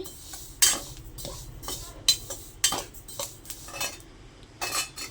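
White sesame seeds roasting in a pan over a low flame, giving a series of sharp, bright clinks and crackling pops at irregular intervals, close and fairly quiet over a faint low hum.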